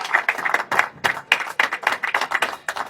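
Audience clapping at an award ceremony where a car and crystal trophy are presented, a short burst of brisk, uneven handclaps from a modest crowd, with no talking.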